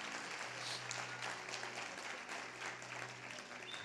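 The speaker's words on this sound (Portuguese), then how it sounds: "Pode dar uma forte salva de palmas" A church congregation claps loudly and steadily throughout a worship service, a dense, continuous applause with no pauses.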